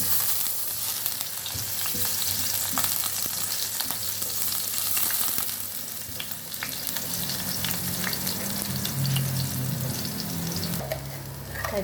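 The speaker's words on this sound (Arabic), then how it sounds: "حطينا شوية زيت في المقلاية اهو، وهنحط فص الثوم." A garlic clove fries in a little oil in a frying pan, giving a continuous close crackling sizzle with scattered pops and occasional stirring scrapes that holds steady for about twelve seconds.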